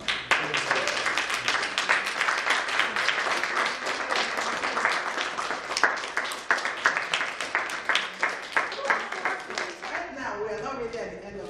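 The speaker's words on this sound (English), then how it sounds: "Can everyone stand up and give her a round of applause?" A standing audience applauds at a World Autism Awareness Day event, sustained mid-level clapping from many people that thins and fades toward the end.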